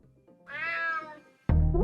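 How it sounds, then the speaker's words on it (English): A cat in the video game UnMetal lets out one clear, drawn-out meow, followed by a sudden loud burst of game sound. "Damn cat."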